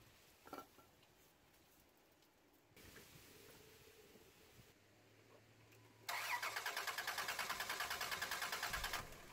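A car engine cranks for a few seconds during a cylinder compression test, with a loud, rapid rhythmic chugging in the final stretch after quieter background noise.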